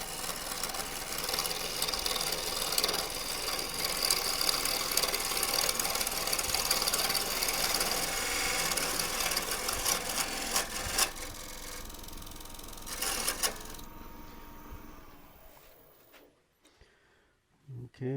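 A spindle gouge takes a peeling cut on a wooden twig pot spinning on a lathe, a steady loud scraping hiss lasting most of the span before tapering off into near silence at the end.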